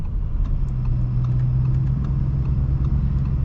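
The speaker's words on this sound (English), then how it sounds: "And the exhaust sounds really good." A 2025 Audi RS6 Performance wagon burbles steadily nearby, its exhaust holding a low, even drone with a slight rise in the middle and faint ticks on top.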